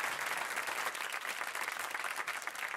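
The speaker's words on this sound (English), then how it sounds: "Just a round of applause." An audience applauds at a cooking and music show, a dense, steady wash of many hands clapping throughout.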